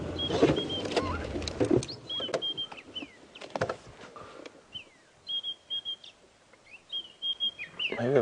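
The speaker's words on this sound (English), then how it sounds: "how you can hear that bird so clearly," Thin, high bird whistles from a hidden bird in a thicket repeat in short phrases, some sliding in pitch, amid rustling and scattered clicks in a quiet early-morning outdoor safari setting.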